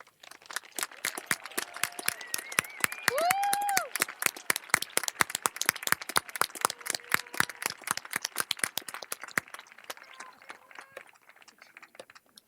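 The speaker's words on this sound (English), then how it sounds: "will our AMS teachers and staff please stand so we can give them a well-earned round of applause" Dense, sustained applause from an audience honoring the teachers and staff at an Albany Middle School promotion ceremony: many hands clapping rapidly, holding strong for several seconds before thinning out, with a brief whoop or whistle early on.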